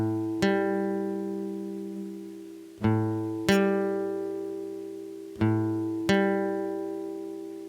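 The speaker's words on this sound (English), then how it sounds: "A minor 7th sounds like this." A minor 7th chord strummed on guitar rings out six times in pairs, each strum bright at the attack and then sustaining and slowly fading, with no talking.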